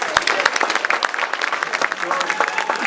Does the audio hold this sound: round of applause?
yes